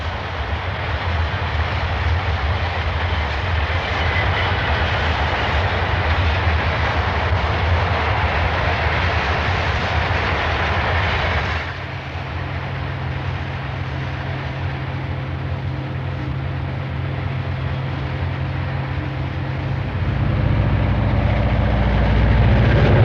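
Passenger train 406 on the last stretch of an overnight run from Toronto, a steady loud rumble of wheels and engine that shifts in tone midway and swells with deep low roar near the end.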